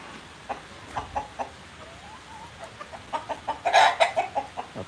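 Chickens cluck in and around a poultry shed in a quick, uneven series of short calls. The calls are fairly soft at first, then grow louder and denser toward the end.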